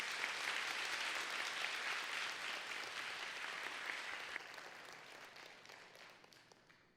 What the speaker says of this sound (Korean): 우리 다시 한번 큰 박수로 축복해 주시기 바랍니다